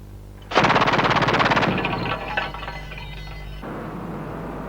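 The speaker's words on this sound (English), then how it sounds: "Some South African specialists fired this one for us at the captured base." A multi-barrel weapon fired from one barrel at a captured base near the Angolan border lets off a loud rapid burst of shots, then a ringing rattling tail that cuts off abruptly.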